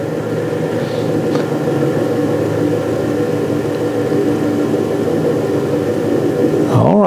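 A 1960s wheel balancer spins with a steady, loud mechanical whir and hum that holds even throughout, with a brief rattle and a dropping tone near the end.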